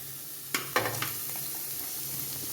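Chopped onion sautéing in a pan with ginger, garlic and green chillies for a chicken curry, giving a low steady sizzle with a few sharp stirring clacks near the start, then a quieter continuous fry.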